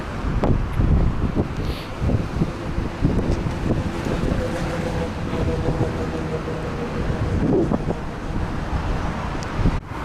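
Strong, cold winter wind blows along the seafront at Alanya, roaring and buffeting the microphone in loud, uneven gusts that continue throughout without any talking.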